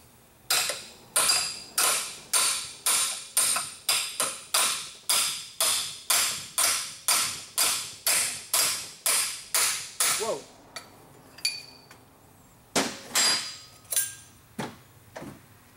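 Two chisels struck together by hammer on a seized, carbon-caked ring in a VW TDI turbo, a fast steady series of sharp metallic blows for about ten seconds, then a pause and a few scattered final hits.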